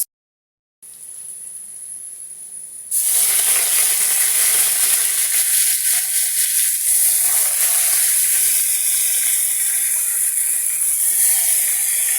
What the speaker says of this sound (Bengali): কাঁচামরিচ পেঁয়াজ দিয়ে দিয়ে দিলাম এখন আমি ভেজে নিয়ে তারপর শাকটা দিয়ে দেবো